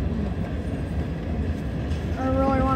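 A Norfolk Southern freight train led by locomotive 3634 rumbles past in Pell City, a loud continuous roar of rolling cars with a brief squealing tone from the wheels near the end.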